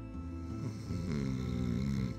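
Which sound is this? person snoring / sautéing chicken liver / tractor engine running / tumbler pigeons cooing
person snoring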